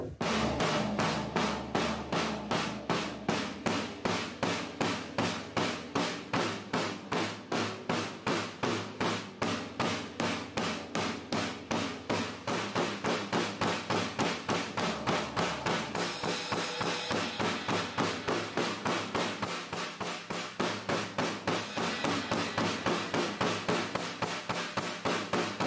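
Even, precise drum strokes from a practice exercise, hands and foot in unison, strike in a steady, rapid stream of evenly spaced hits that runs unbroken throughout at moderate volume.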